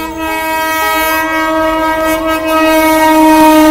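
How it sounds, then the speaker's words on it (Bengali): A train arriving at Ichapur station on the line from Sealdah sounds a long, loud, steady horn that holds for several seconds alongside the rumble of the railcars, with no talking. "এই যে শিয়ালদা থেকে ট্রেন আসছে"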